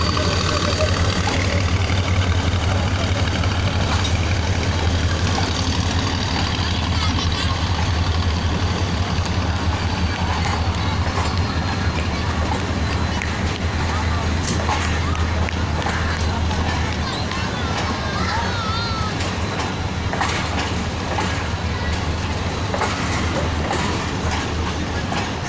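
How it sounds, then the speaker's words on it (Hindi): A Karachi Circular Railway commuter train pulls out of Cantt station with a steady, loud rolling rumble, engine drone and faint clickety-clack that continues throughout, while a person talks over the noise. "और अब KCR कैंट स्टेशन से अपनी आखिरी मंजिल कराची सिटी स्टेशन की"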